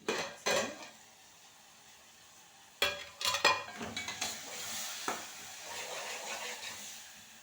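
A metal pot lid clatters and scrapes on a pan while a tomato and brinjal curry cooks, with sharp clinks of cookware in irregular bursts over a soft background sizzle of frying.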